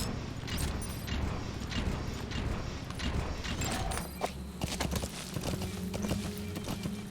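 Horse hooves clip-clop steadily through Metal Gear Solid V gameplay, a continuous rhythmic trot mixed with faint creaks and game ambience, fairly close and without speech.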